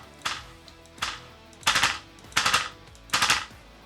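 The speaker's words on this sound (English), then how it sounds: "it has recoil within the haptic feedback module" Five sharp recoil thumps from a VR haptic feedback stock module, arriving roughly every 0.7 seconds, each one a punchy mechanical burst that rattles briefly before fading.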